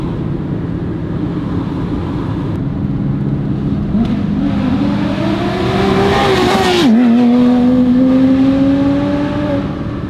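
A Porsche passes close by with a loud engine that rises in pitch as it revs and then drops sharply, its roar swelling and fading over a steady background rumble.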